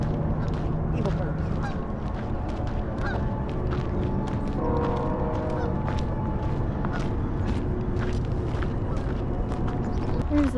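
A flock of geese honks loudly and continuously at a nature conservancy, many overlapping calls close by, with people talking intermittently underneath.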